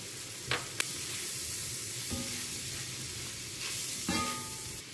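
Fried rice ingredients seasoned with rosemary, nutmeg, chili flakes and salt sizzle steadily in a pan, a continuous close crackle with a few sharper pops and clinks of stirring along the way.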